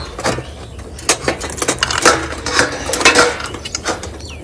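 Steel dishes, pots and cutlery clatter and clink close up in irregular bursts as they are washed and stacked in a home kitchen.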